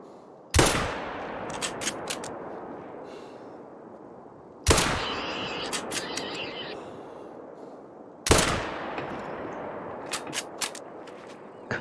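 Three loud hunting rifle shots fired at running game in theHunter: Call of the Wild, spaced about four seconds apart, each a sharp crack followed by a long rolling echo that fades out.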